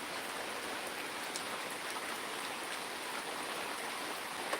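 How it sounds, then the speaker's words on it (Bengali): Rain pours down steadily as a dense, even hiss of water with no breaks, moderately loud and close, with no voices. "আমাদের এখানে প্রচুর বৃষ্টি হচ্ছে এখন একটু বৃষ্টি কম"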